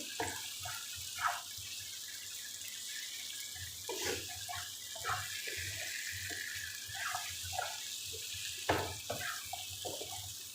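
Water runs steadily into a cooking pot holding potatoes and spices, a soft continuous pour with faint splashes and gurgles, low and close, with no talking.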